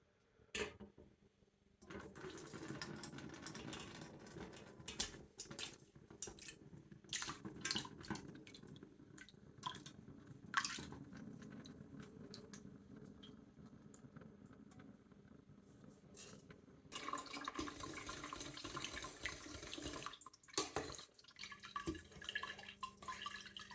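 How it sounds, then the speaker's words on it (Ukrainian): Curdled milk for brynza cheese strained through an ordinary colander, whey trickling and dripping steadily with splashy bursts, close and continuous, with a louder pour toward the end. "Тепер ми його процідимо. Беремо звичайний друшляк і проціджуємо."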